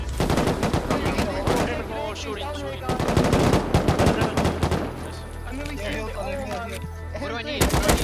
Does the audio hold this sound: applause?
no